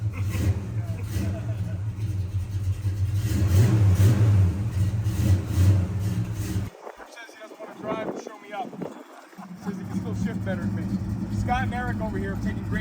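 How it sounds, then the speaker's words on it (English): A muscle car engine revs loudly with a deep rumble, rising through several throttle blips before dropping back, while people talk over it nearby. "Rev it up a little bit, man."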